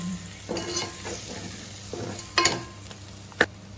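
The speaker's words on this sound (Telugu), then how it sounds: "పసుపు పొడి కొద్దిగా, మిక్స్ చేసుకుంటుంది." A spoon stirs turmeric powder into a spicy mutton head curry (talakaya kura) in a pan. Soft scraping strokes run over a light sizzle, with two sharp clinks against the pan near the end; no one speaks.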